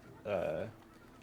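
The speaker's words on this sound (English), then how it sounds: "I think I hear a storm bird overhead," A storm bird machine in Horizon Zero Dawn calls once overhead, a brief honking, goose-like cry lasting under half a second, fairly clear against quiet game ambience.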